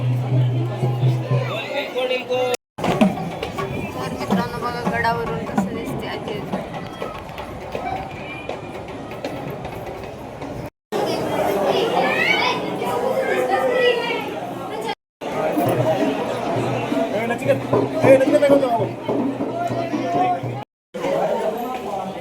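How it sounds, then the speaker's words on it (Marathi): Busy crowd at a bus stand near Jejuri, a continuous babble of many voices with louder nearby talk and shouting, briefly cut to silence several times. "कधी पण या गर्दीच असते बाबा काय गर्दी"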